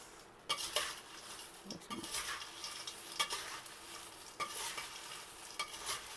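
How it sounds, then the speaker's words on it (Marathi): Fried poha is stirred with spice masala, making repeated dry scraping and rustling strokes with light clinks of a spoon against the pan, fairly quiet and close. "हा राहिलेला मसाला घालूयात यावर आणि मिक्स करून घेऊया मसाला"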